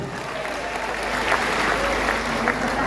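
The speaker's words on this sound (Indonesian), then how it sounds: "tepuk tangan lebih" Applause from a church congregation during a synod assembly morning worship service, a steady crowd clapping that holds evenly and swells slightly for about three seconds.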